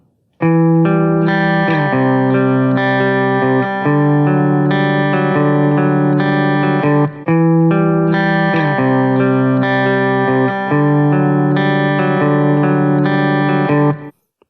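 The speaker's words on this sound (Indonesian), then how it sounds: "Ketika limitingnya over, nanti dia akan muncul menjadi seperti efek distorsi." Sustained distorted, harshly clipped musical chords from an over-driven limiter in Audacity, loud and gritty, with a brief gap midway before the crunchy sound resumes.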